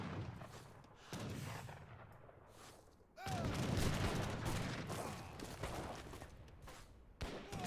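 Heavy cannons and falconets fire in a real-time strategy battle, with repeated booming artillery blasts and crackling gunfire that swell into a loud, dense barrage, mixed with distant battle noise.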